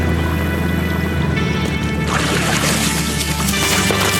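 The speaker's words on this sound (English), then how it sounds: "Edisto River 2013 synchronized hat dunk" Hats dunked in unison into the Edisto River in South Carolina, giving continuous close-up watery splashing and sloshing that grows rougher midway, with no talk.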